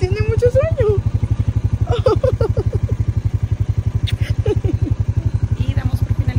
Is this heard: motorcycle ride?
yes